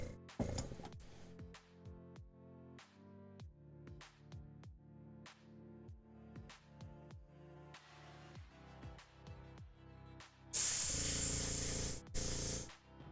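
An aerosol can of spray primer hisses out in two loud, steady bursts, the second briefly interrupted, after a long stretch of faint clicks and handling sounds.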